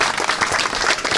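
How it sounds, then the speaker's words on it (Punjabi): A village audience in Sandhwan, Faridkot claps for a doctor in a brief, close, busy burst of hand-clapping. "ਡਾਕਟਰ ਸਾਹਿਬ ਨੇ ਤਾਲੀਆਂ ਮਾਰ ਦਿਓ ਬਈ।"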